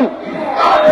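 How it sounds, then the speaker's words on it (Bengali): A large protest crowd in Bangladesh chanting slogans against ISKCON, a loud massed roar of voices swelling over less than a second. "তারা যে স্লোগান দিচ্ছে ইসকনের আস্তানা বাংলাদেশে হবে না বা এই বাংলায় হবে না"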